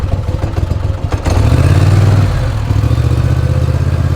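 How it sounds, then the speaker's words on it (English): A boat motor churns and idles loudly up close while reversing, its low engine drone rising and shifting steadily with some mechanical clatter. "we're going to back this boat up"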